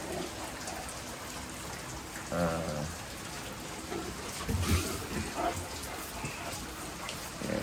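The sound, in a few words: rain falling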